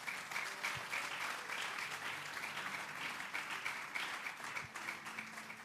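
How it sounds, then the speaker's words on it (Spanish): A church congregation claps at length during a sermon, a continuous dense wash of applause at steady moderate volume with occasional low thumps and no talk over it. "Dele un fuerte aplauso al Señor."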